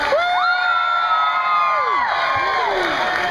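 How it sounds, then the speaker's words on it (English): An audience at an island dance show at a beach resort cheers and whoops for returning female dancers, high shouts and yells rising and falling over a steady crowd roar, loud and close. "Come on, you can cheer louder than that."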